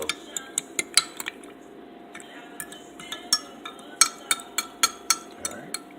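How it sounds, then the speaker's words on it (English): Yeast stirred in water with a utensil clinking repeatedly against a bowl, a quick rhythmic series of sharp close taps with short pauses between bursts. "Then you're just going to agitate the yeast. So you're just going to stir it up."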